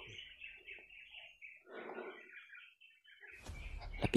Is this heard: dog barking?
no